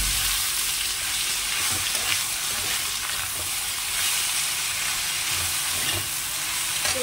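Taro and green chilies frying in a pan, a steady broadband sizzle holding evenly throughout with faint occasional stirring scrapes, no voices.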